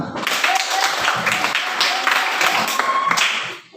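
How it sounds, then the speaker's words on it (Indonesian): Children and teachers clap their hands at an Indonesian school lesson, a steady patter of applause with sharper individual claps, fairly close, with some voices mixed in. "Silakan tepuk tangan."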